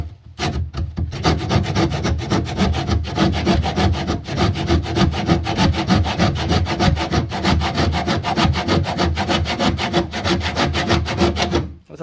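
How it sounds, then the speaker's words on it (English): A hand saw held upside down cuts through hardwood while a sideboard is fitted over an electric meter, giving a long run of rapid, even back-and-forth rasping strokes, loud and close. "So I'll just use the saw upside down"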